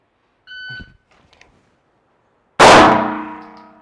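A single sharp pistol shot strikes a steel target, ringing with a bright metallic clang that decays over about a second, preceded by a brief faint tone and small clicks.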